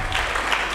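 A church congregation applauds together, a brief, steady wash of clapping heard at moderate loudness.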